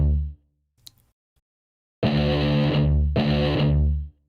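A synthesizer plays a distorted, buzzy synthwave patch in D, two sustained rich chords separated by a brief gap after an opening note and a few soft clicks, close and fairly loud with no voices.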